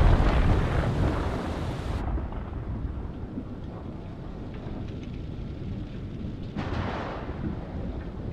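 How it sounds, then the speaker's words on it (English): A dense, steady wash of rain and rumbling thunder fills a thunderstorm in the video game Man of Medan, loud at first, then slightly muffled, with a brief swell of noise near the end and no talking. "And it's been a storm."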